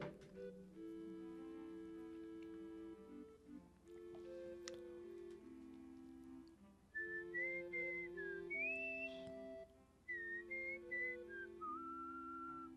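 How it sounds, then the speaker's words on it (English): A person whistling a melody alongside game music, clear pitched whistled notes sliding and wavering in phrases, fairly close and moderately quiet, with soft ticking in the background. "I love to whistle."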